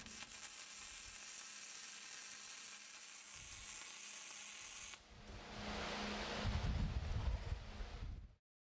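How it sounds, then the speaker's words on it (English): Flux-cored arc welding running one straight bead on a steel workpiece, a steady crackling sizzle that swells louder and rougher partway through before cutting off abruptly. "You make one straight weld."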